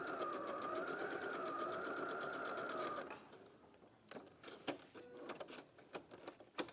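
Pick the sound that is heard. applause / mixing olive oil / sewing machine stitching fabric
sewing machine stitching fabric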